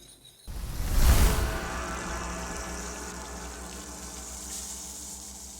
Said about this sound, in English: Instead of cooking it, we'll just add a little water.